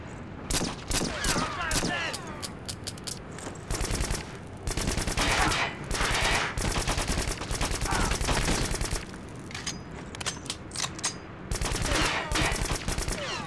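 Rapid bursts of automatic gunfire from a first-person shooter set in a factory level, dense volleys repeating loudly across the whole stretch with only brief pauses between strings of shots.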